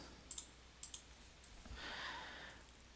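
Two quick double clicks of a computer mouse, close and crisp in a quiet room, followed by a soft rustling hiss.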